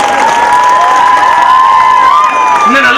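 A crowd at the 2024 Kalanjiam event in Sanarpatti cheers loudly, with high shouting voices and whistle-like calls over a wash of applause, close and continuous throughout.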